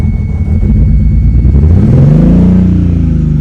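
The engine of a BMW E82 drift car fires up and revs loudly close by, a rough idle swelling into a rising rev in the second half.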